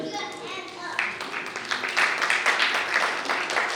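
An audience applauds at a music video launch, with clapping rising and filling the room as voices carry underneath.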